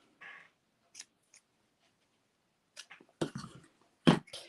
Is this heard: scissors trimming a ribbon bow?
yes